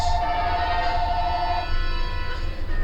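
A telephone rings inside The Legend of Zelda: Ocarina of Time Master Quest randomizer, a steady electronic bell tone sounding continuously over a low game background hum, moderately loud and without speech.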